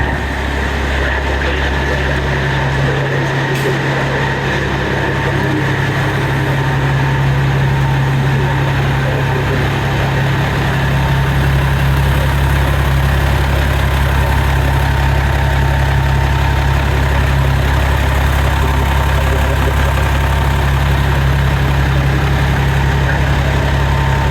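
A truck engine idles steadily, a loud, deep, even rumble close by that holds through the whole stretch with no speech.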